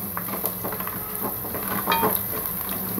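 Ginger garlic paste frying in a pan for an aloo rice breakfast, a steady soft sizzle with faint stirring scrapes and occasional clinks, close and fairly quiet, no voices.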